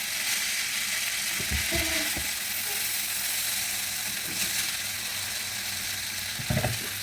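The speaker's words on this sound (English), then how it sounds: "We add this and mix it together." Indomie noodles stirred in a hot frying pan, giving a steady loud sizzle throughout, with a few scraping knocks of the utensil against the pan.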